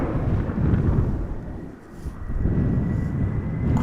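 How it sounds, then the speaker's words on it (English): A 33-year-old Martinair Cargo Boeing 747-400 departs with a deep, rumbling engine roar that dips briefly in the middle before surging back strongly. "Martinair Cargo, flight 6161, Boeing 747-400, 33 years old"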